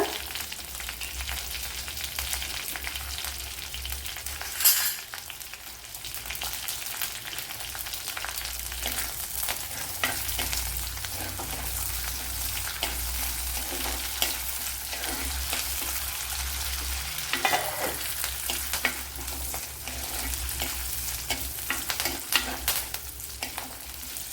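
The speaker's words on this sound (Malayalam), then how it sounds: "രണ്ട് മൂന്ന് പച്ചമുളക് കുറച്ച് കറി ലീവ്സും കൂടെ ഇട്ട് കൊടുക്കുക" Green chillies and curry leaves fry steadily in hot oil, giving a continuous loud sizzle with occasional stirring scrapes and a sharp spatter pop, no voices.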